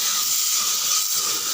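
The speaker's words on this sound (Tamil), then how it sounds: "இங்கே பாருங்கள், 4 தக்காளி கட் பண்ணி வச்சுருக்கேன். இதுலேயே அப்படியே சேர்த்து வதக்கிடலாம்." Chopped tomatoes sautéing in half a teaspoon of oil for a garlic tomato chutney, a steady, close, even hiss with no talking.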